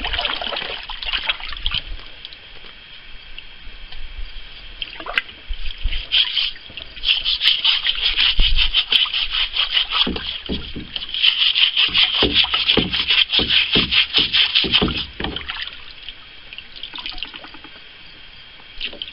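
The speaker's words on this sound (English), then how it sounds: "So I'm just going to clean it in water here basically." Rusty metal being scrubbed and rinsed in water after a molasses soak, with steady splashing and sloshing under running water, close and continuous, and brisk rubbing strokes.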